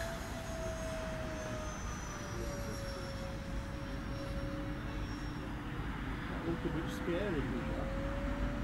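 An RC tailsitter aircraft flies level in horizontal flight, its electric motor giving a steady, distant whine that drifts slowly in pitch over a constant outdoor rumble, with no voices.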